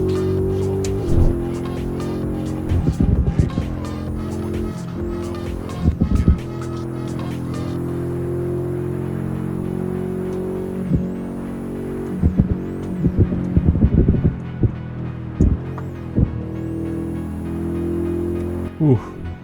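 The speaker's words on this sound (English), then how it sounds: "This car sounds way too loud." A BMW X5M in the No Hesi driving game, its loud engine droning and revving steadily through traffic with repeated shifts and surges, while someone talks over it throughout.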